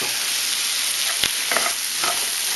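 Mushrooms frying in hot oil in a pan, a steady loud hiss of sizzling throughout with a sharp clack and a couple of stirring scrapes breaking through.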